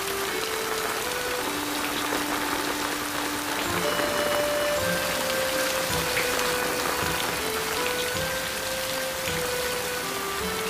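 Steady, dense rain falls close by with an even hiss and patter that never lets up, while a soft melodic tone drifts along underneath.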